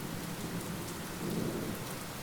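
Dense, steady rain pours down with a low rumble of thunder swelling underneath, no voices.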